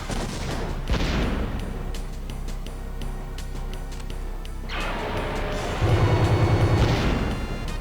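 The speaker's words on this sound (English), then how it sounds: "we can go ahead and hit him with the hand cannon again" A hand cannon attack in the retro game Wild Arms sounds as dense, crunchy explosive blasts and rumbling booms that repeat over several seconds, loud and heavily compressed, with no talk.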